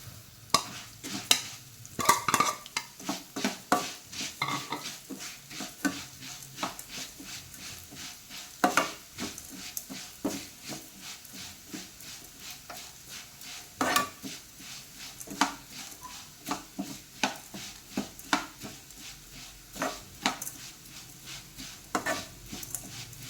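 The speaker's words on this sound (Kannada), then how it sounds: "ಎಲ್ಲ ಚೆನ್ನಾಗಿ ಹುರಿಯಬೇಕು, ಕಪ್ಪಾಗಬಾರದು" Cumin seeds, about 100 grams, are dry-roasted in a pan for Udupi-style sambar powder, with soft, frequent scraping and clinking from a spatula stirring against the metal surface over a faint, quiet background.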